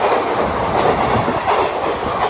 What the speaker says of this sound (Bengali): হ্যাঁ এসে গেল ট্রেন।